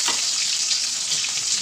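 Pork hock pieces hit golden-brown onions frying for pata adobo, a dense, close hiss of hot oil that holds steady and loud through the brief moment without any talking.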